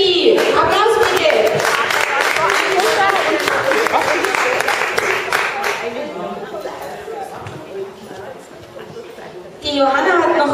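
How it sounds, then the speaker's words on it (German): Audience applause and cheering at a dog dance tournament in Zusmarshausen swells loudly, then thins into scattered claps and murmuring chatter before a fresh burst near the end; voices mingle throughout. "Applaus bitte!"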